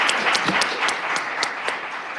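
A crowd applauds at a Milwaukee County Board of Supervisors meeting, with dense, continuous clapping at close range and no voices over it.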